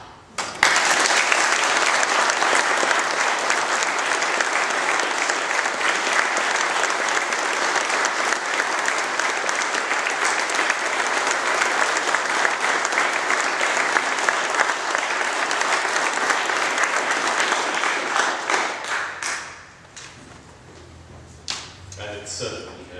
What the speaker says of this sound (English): I'd like you all to join me now to send applause to the heavens